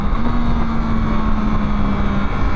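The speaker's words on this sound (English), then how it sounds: "And listen to that engine." A 2024 Yamaha MT-09 motorcycle riding on a road, its engine holding a loud, steady drone with a sustained tone and constant rumble, no voices.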